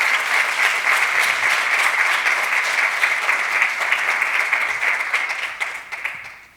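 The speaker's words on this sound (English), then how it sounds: "please give a round of applause to Dr. Cantor, Dr. Verhosek, and to yourself for being here today." Sustained round of audience applause at a medical conference plenary session, dense steady clapping from a large crowd that holds throughout and tapers off at the very end.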